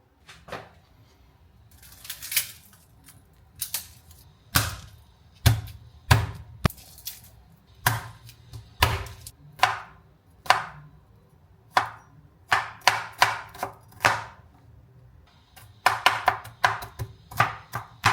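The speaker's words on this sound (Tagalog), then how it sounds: "Next naman ay maghihiwa na ako ng bawang at sibuyas." Garlic and onion being chopped with a knife on a board: a long series of sharp, close chops in irregular bursts, some in quick runs, with quiet pauses between, no voices.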